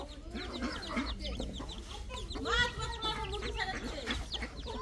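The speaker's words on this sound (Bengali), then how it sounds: "মুরগি আয় দেখেন এই যে এগুলো সব খাওয়াই" Yard chickens cluck and squawk in a close, busy cluster. Repeated short calls peak near the middle, and a faint hum runs underneath.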